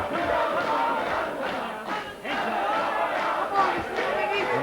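A boxing crowd at a 1995 WBO Intercontinental title fight roars and cheers continuously, a loud dense wall of voices with shouts rising and falling.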